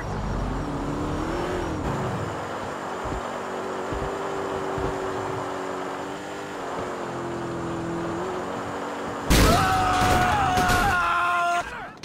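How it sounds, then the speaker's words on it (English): A car engine drones and shifts pitch as it drives in Grand Theft Auto IV, steady and close, then a louder burst of clattering impact noise near the end. "Oh my god, this is Frank's car"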